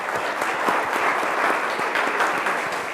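An audience applauds to welcome climate scientist Lisa Goddard to a lecture, a steady, dense wash of clapping from many hands, sustained and fairly loud with no break.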